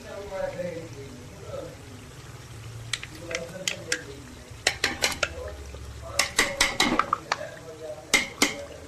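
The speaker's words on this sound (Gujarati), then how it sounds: "તો હવે આપણે આની અંદર નાખી દઈશું આ દહીં" A spoon stirs curd into a spicy drumstick gravy in a metal pan, giving a run of clinks and scrapes that grows busier and louder toward the end, with soft sizzling underneath.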